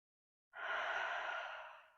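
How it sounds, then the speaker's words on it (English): A single deep breath during a yoga session, one long airy exhale that starts abruptly and fades out slowly, close and clear after a moment of silence. "Take a deep breath. Another deep breath."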